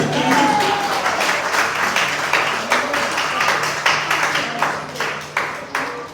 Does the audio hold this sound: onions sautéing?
no